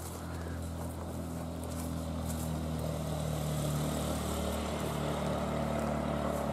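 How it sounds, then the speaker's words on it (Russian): A motorboat travels up a river, its steady engine drone holding throughout and growing slightly louder as it comes closer, with no voices over it. "кто-то на лодке поднимается."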